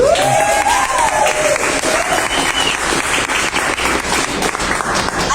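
Audience applause after a poem at an open mic, a dense, steady wash of many hands clapping close and loud for several seconds, with a brief voice rising over the start.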